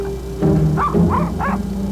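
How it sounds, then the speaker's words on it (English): A small chihuahua barks several short, high yips in a quick run, close and fairly loud, filmed in front of a blue screen on a film set, with a steady low hum underneath. "actress Sarah Jessica Parker and a small chihuahua are both filmed barking in front of a blue screen."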